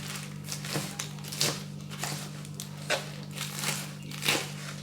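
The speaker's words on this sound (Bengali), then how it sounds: "এবার পালং শাকটা আমি কুচি করে নেব" A knife chops fresh spinach leaves with the long stems removed, giving a series of soft, crisp cuts at an uneven rhythm, close and fairly quiet over a steady low hum.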